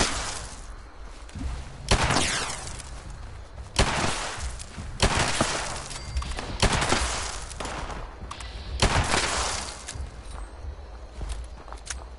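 A double-shot revolver firing in Fallout 76, loud sharp gunshots spaced a couple of seconds apart, with broadband blasts and quieter game action between them.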